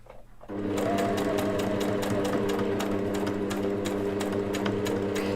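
A sewing machine starts up and stitches in a fast, even, continuous whir with rapid ticking needle strokes, close and steady after a short quiet start.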